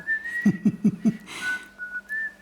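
Person whistling the Columbo TV theme tune: four short rising notes in quick succession, then a sustained held tone, close and clear with no talk over it.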